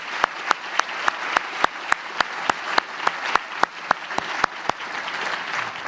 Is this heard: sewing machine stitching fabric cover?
no